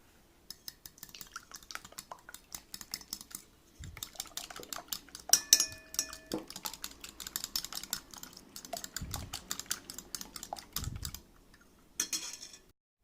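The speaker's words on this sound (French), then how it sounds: "Maintenant, je vais battre ce mélange." Two eggs and vanilla sugar are beaten in a bowl, a fast rapid clatter of a whisk or fork against the bowl that runs in bursts with a few short pauses and a couple of soft knocks.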